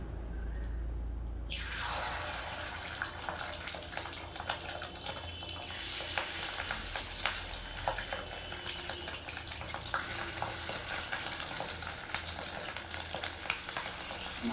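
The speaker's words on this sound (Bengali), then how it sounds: "এটা একটা একটা করে এরকম বড়া ছাড়বো গরম তেলে" Fritters of fish roe, onion and chili dropped one by one into hot oil, giving a loud, dense, crackling sizzle that starts after a quieter opening and runs steadily, close by, with no talk.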